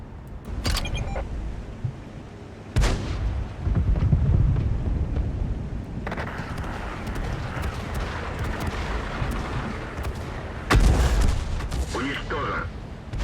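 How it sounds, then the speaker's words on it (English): Heavy artillery fires in the tank game World of Tanks, with booming shots and rumbling blasts over a continuous noisy battle bed. "Heavy artillery is ready."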